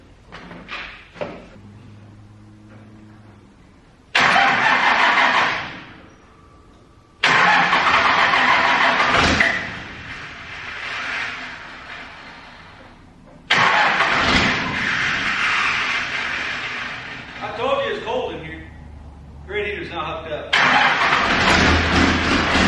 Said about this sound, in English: Let that truck warm up just a little bit.